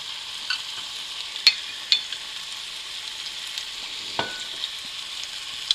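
Filet medallion steaks sizzle in a hot pan, a steady fizzing hiss with a few sharp pops and clicks scattered through it, close and alone without speech.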